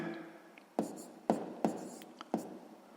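A pen or pencil writes out a sixth-grade maths solution, a few quiet, separate scratching strokes with soft pauses between them and no talk.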